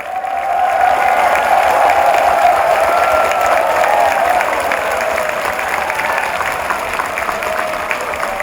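Audience applause at a Buddhist temple event at Naejangsa in Jeongeup, a steady dense clapping from a crowd that holds strong for several seconds and then eases slightly, with no voices over it.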